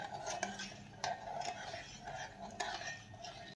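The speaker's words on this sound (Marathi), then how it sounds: "छान अशी साखर हलवत साखर विरघळून घ्यायची आहे" Sugar is stirred in a pan over high heat until it dissolves for khoa gulab jamun syrup, giving soft repeated scrapes and light metallic taps at an irregular rhythm, close but faint.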